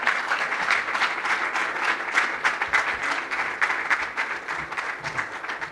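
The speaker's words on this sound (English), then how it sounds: "with a standing ovation and a resounding applause" A large lecture audience gives a standing ovation for a speaker, dense clapping filling the room at a consistent loud level for several seconds.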